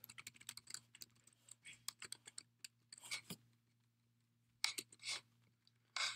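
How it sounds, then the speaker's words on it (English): Close, crisp typing on a computer keyboard while entering code, irregular clusters of key taps with brief pauses between, faint steady hum beneath and no talking. "So go ahead and type those in."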